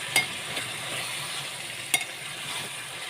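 Chicken frying in a pan crackles with a constant soft sizzle, punctuated by two sharp clinks of stirring. Close and moderately quiet, with no voices.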